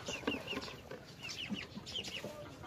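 Rhode Island Red chickens on a farm cluck softly and intermittently, a few scattered low calls and short chirps over quiet outdoor ambience at a modest distance.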